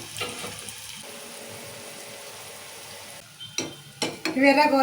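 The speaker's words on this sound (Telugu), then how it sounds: "బ్రౌన్ ఆనియన్స్ కోసమని వేయించుతుంది ఇప్పుడు" Onions fry in oil for biryani brown onions, giving a soft continuous sizzle with a few stirring knocks, then clatter and a brief voice near the end.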